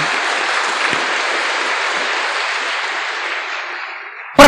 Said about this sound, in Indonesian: Oh ya, tepuk tangan dulu boleh.